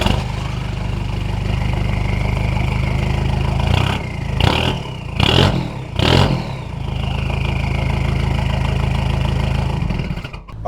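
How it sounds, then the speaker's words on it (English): A straight-piped 1994 Toyota Prado engine idles with a loud, deep rumble, then revs sharply several times in quick succession before settling back to a steady idle. "they straight piped it. So let's hear what that sounds like."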